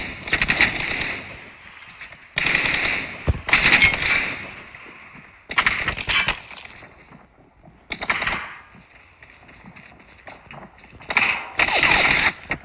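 Bursts of gunfire from the PUBG Mobile video game, several loud rapid volleys separated by short gaps, with a final burst near the end.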